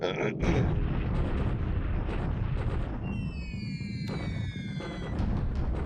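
A night bombing air attack strikes a runway in the War in the Pacific strategy game, with heavy rumbling explosions and artillery-like blasts rolling continuously alongside a high, whistling descending tone.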